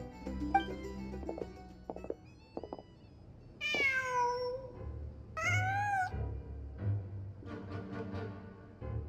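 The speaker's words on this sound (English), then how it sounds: "Just a cat." A cat meows several times in Genshin Impact, clear, close, drawn-out calls with rising and falling pitch, between quieter game ambience and small clicking sounds.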